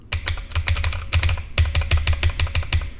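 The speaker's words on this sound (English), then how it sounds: "here's a quick sound test of the MX Boost switches without the O-rings on." Fast clicky typing on a mechanical keyboard with Cherry MX Blue switches and no O-rings, crisp sharp keystrokes in quick bursts, close and loud with nothing else heard.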